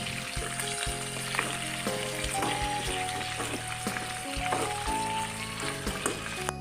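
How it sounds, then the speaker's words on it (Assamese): Pork frying and sizzling in its own rendered fat in a pan, a steady, close, busy crackle that carries on evenly throughout with no talking. "আৰু মই মাংসখিনি কি কাৰণে অলপ ফ্ৰাই কৰি দিছোঁ"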